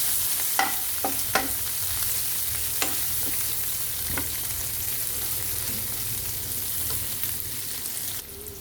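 Spices, chili powder and turmeric, fry in a pan with a steady, moderate sizzle, broken by several sharp scraping clicks of a spoon stirring against the metal.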